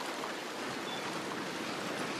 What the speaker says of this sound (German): Nee, es sind nur Wassertropfen.